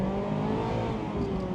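A Mazda MX-5 roadster engine, 2024 model, revs high and steady with a buzzing exhaust note, sustained over rushing wind noise at speed.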